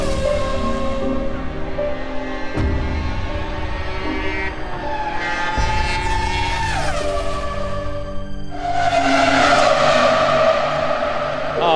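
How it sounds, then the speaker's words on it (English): Loud, high-pitched screaming of a 2004 Formula 1 V10 race car engine, revving up and down through gear changes as the car blasts past. "2004 produced a raw mechanical sound that defined peak F1 audio."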